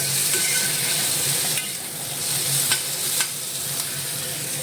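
Fish sizzles steadily in a hot pan in a home kitchen, cooked for a Bengali fish curry, a dense continuous crackle broken by a few sharp pops and clicks, close and fairly loud with no talking.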